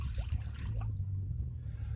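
Water trickles and pours into a cast-iron potjie pot up close, a short splashy dribble over a low background hum.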